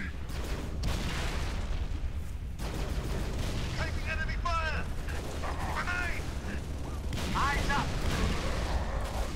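Gunfire crackles through a battle in Halo: Reach, steady bursts under dense game noise, with brief chirping alien-weapon sounds rising mid-clip and again near the end.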